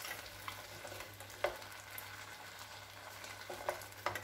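Shrimp go into a pan of softened squash for bobó de camarão and fry with a low, steady sizzle, broken by a few faint clinks and stirring sounds.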